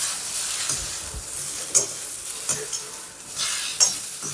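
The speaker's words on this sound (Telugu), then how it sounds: "ఇది ఇప్పుడు కొద్దిగా ఫ్రై చేస్తుంది." Vegetables with cauliflower and turmeric frying in oil in a pan for Bengali khichdi, a steady soft sizzle broken by a few stirring scrapes and clinks, close and moderately loud, with no talking.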